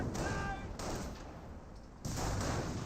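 Artillery decoy barrage rains down in Company of Heroes, a busy wash of distant booms and rumbling impacts layered under a commentator's steady talk, with a sharper burst near the end.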